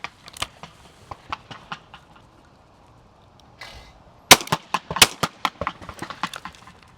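Shotgun blasts at skeet targets ring out in American skeet at station 1, two loud sharp reports close together among lighter scattered clicks and pops, outdoors.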